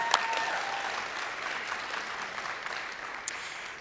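A large audience at the 2023 Liberal Convention keynote applauds, a dense, even wash of clapping sustained throughout at moderate volume.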